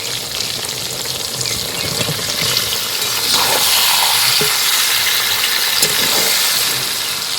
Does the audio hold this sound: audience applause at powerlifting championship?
no